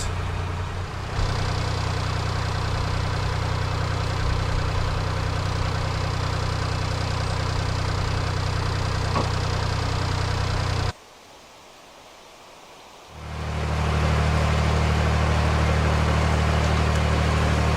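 A narrowboat's steady low engine drone runs throughout, briefly dropping away for a couple of seconds before returning at full strength.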